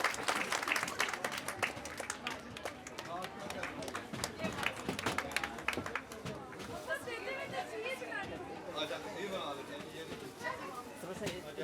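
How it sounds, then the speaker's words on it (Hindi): Children and guests at a Montessori school's annual prize distribution ceremony applaud in a hall, crisp clapping fading into a murmur of crowd chatter and movement, with voices talking throughout. "अंदाज में तालियां होनी चाहिए।"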